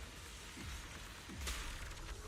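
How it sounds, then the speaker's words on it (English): Rain attack effect in Zenless Zone Zero, a steady wash of pattering rainfall with soft low whooshes and a brief brighter splash midway, moderately quiet and without speech. "be washed away by the great rain!"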